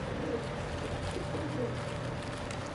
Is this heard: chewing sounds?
no